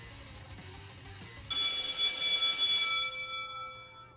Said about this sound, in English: The last bell rings, disrupting the moment and snapping everyone back to reality.